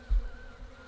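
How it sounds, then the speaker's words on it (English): Honey bees buzz over a pulled hive frame, a close steady drone with a brief louder swell near the start and no talking. "There's so many bees covering"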